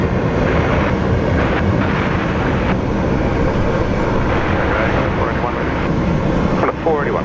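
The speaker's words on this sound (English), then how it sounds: "Qatar Airways A380 coming in from Doha" A Qatar Airways Airbus A380 arriving from Doha at Sydney International Airport gives a steady, loud broadband roar that fills the whole stretch, with voices talking over it.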